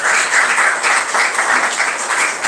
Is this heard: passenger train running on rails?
no